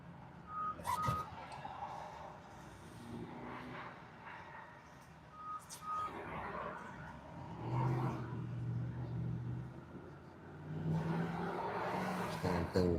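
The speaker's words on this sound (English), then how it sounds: "A lot of traffic." Busy city street traffic with cars and trucks moving past, engines rising and falling at moderate distance, a vehicle reversing beeper sounding in short repeated tones, and brief faint voices in the background.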